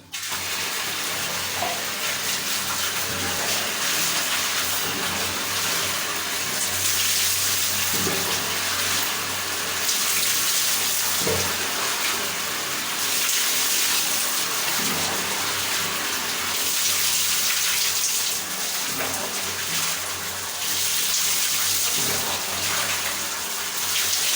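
Water runs steadily from a tap for a long stretch during a hair wash indoors, a constant hiss and splash with no talking over it.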